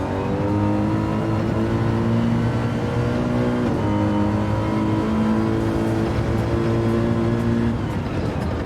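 A Mercedes AMG race car in a racing video game at Laguna Seca, its engine droning loud and steady throughout, pitch rising and falling slightly with gear changes and acceleration, heard alone without talk.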